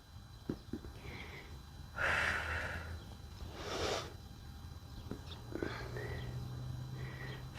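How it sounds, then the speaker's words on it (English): Slow, deep breaths drawn in and out during a seated yoga twist, two long airy swells stand out against a quiet room, with faint softer breathing around them. "And we're breathing."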